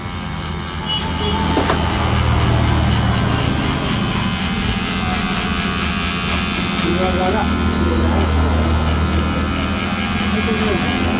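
An electric hair trimmer buzzes steadily close by while cutting hair, a continuous humming drone under faint background noise, with no clear speech over it.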